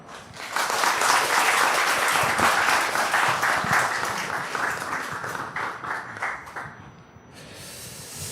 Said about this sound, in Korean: 여러분께서 또 박수로 맞이해 주시기 바랍니다.